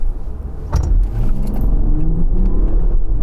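A 2022 Range Rover launching hard from a standstill on a flat road, heard from inside the cabin: a deep engine roar that rises and holds steady, loud and close, with a brief jangle near the start.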